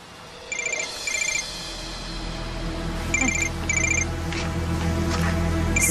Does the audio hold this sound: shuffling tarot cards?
no